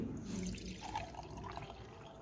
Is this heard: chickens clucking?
no